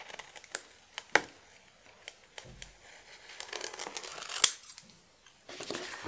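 Scissors snip out a piece of fabric from a crafting supply set, giving a few sharp close cuts and light crinkling scattered between quieter pauses, with no talking.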